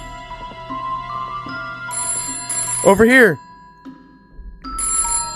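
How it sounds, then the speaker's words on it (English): A telephone rings in a short electronic burst in the VR horror game The Smile Room, amid game music and ambient tones, with people talking over it nearby. "That was a phone."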